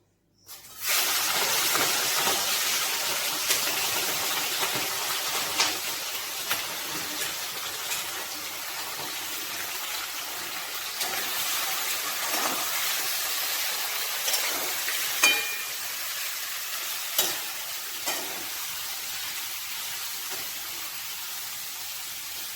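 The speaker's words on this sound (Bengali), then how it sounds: "আমি এবার চিংড়ি মাছটা ভেজে নিই" Prawns frying in a pan make a continuous close hiss of hot oil after a sharp start, with scattered small pops and spatters across about twenty seconds.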